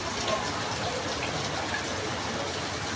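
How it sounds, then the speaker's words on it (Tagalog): Rain falls steadily on a rainy Thursday, a dense, even hiss of drops on surfaces that continues without pause and with no voices. "parang nanadya ang ulan"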